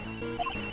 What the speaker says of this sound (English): My phone as well.